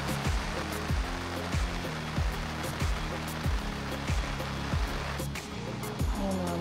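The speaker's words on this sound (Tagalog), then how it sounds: "Bigla-bigla palang umuulan dito." Sudden rain falling around a car camping spot, a steady broadband hiss of drops with a regular low thumping pattern underneath, continuous and fairly loud throughout.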